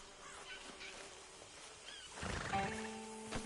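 A horse in a video game gives a short, faint neigh partway through, followed by a brief snort and shuffling, with no talk over it.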